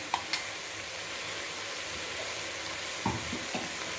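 Whole spices such as pepper, coriander seed, fenugreek and dried red chillies being stirred after roasting in oil for bisibelebath, with a steady soft sizzle and a few sharp scraping clicks of the spoon against the pan.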